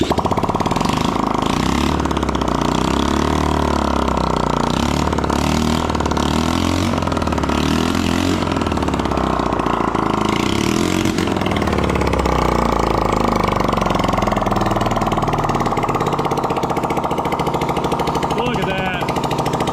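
A cheap 1970s dirt bike engine runs steadily with a rough, rattling buzz, rising and falling in pitch as it revs, loud and close throughout, with voices talking over it.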